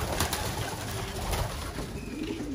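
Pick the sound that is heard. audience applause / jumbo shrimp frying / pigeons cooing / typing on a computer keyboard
pigeons cooing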